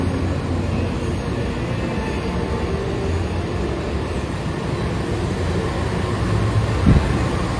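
Continuous low rumble and hum of the Ciremai and Argo Sindoro trains waiting at the Semarang Tawang station platform, with steady ambient noise and a brief knock near the end.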